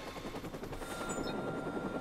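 Helicopter in Watch Dogs flying close overhead, a loud continuous rotor chop with rapid rhythmic thumping and a steady engine whine throughout.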